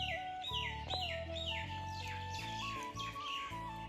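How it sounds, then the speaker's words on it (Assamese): Several birds chirp in quick, repeated bursts of high calls over a steady background hum, fairly close and continuous throughout. "এইটো চৰাই"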